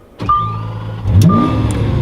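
A Lamborghini Aventador supercar is started with its keyless start-stop button, giving a whirring starter sound before the engine fires into a loud, deep, steady idle rumble that sits close and fills the space.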